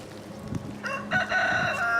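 Chickens cluck and a rooster crows loudly nearby, the calls rising into a drawn-out, harmonic cry over a low background murmur.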